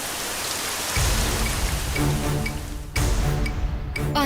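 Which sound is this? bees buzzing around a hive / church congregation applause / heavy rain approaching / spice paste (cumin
heavy rain approaching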